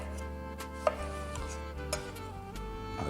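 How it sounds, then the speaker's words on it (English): Knife chopping tomatoes on a board while cooking red bean and tomato soup, a few sparse light taps spaced irregularly over a steady low hum, faint and close. "I just want to finish off chopping these tomatoes"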